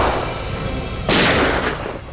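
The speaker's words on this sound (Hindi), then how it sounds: "सर फायरिंग हो रही है" Gunfire in a forest, one loud sharp burst that cuts through a steady roar of background noise and trails off slowly, with no talking.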